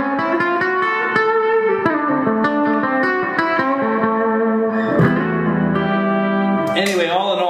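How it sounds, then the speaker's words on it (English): An electric guitar played through a Roland Cube 30 amplifier with reverb added, picking a run of sustained, ringing blues-style notes with a washy tail, steady and fairly loud, ending in a bent, sliding note. "Here we'll add some reverb to that."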